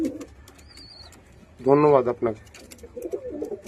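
Healthy pigeons coo softly nearby in short throaty bursts, with a brief thin whistle-like call, while someone speaks a few words over them.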